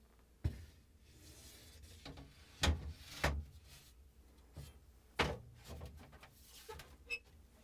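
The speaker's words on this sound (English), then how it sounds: "Next, I'm going to place the glass shelf back in." A glass shelf is set back into a refrigerator: a run of scattered knocks and thuds with light scraping between them, a few sharper clunks standing out, close and quiet with no talk.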